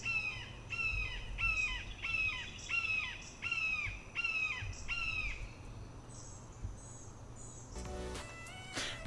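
A crow outdoors caws repeatedly in a rhythmic series of about eight harsh calls, close and clear, followed by a few higher squawks and chirps over a low background hum.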